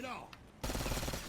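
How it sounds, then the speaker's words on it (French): A burst-fire weapon shooting in Black Ops 6 Zombies, a rapid rattling volley of shots that starts abruptly after a quieter moment and continues loud and close to the end. "Donc, on a une double rafale."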